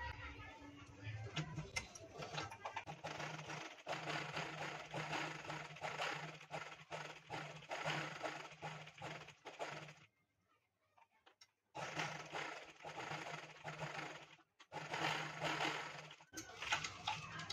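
An electric sewing machine stitches around the neckline of a blouse, humming in fast, steady runs close by, pausing once for about two seconds before resuming and stopping briefly again.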